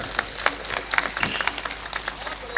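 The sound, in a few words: audience applause at a Hindi poetry recital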